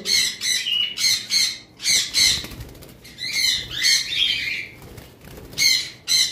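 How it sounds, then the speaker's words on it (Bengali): Harsh, piercing squawks of young sun conure parrots burst out in quick repeated runs, loud and close, with brief gaps between the shrill calls. "আর এইখানে রয়েছে আমাদের সানচিক কোনোর"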